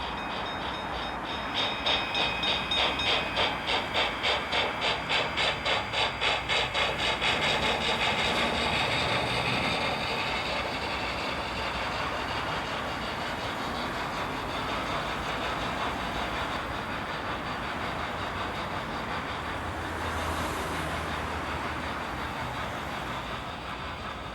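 An HO scale model of a Pennsylvania T1 steam locomotive pulling a mail train chuffs in quick rhythmic beats as it gets underway, then settles into a continuous rolling rumble of the train passing.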